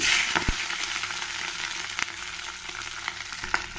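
Washed, drained Malabar spinach (basale) leaves hit hot oil and fry with a steady close sizzle, with a few sharp clicks and crackles of stirring, no voices.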